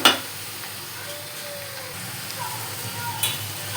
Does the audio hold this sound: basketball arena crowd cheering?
no